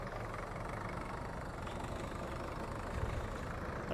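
Low, steady chugging of a Sonalika 60 tractor engine idling nearby during maize harvesting for silage, a continuous rough drone that barely changes.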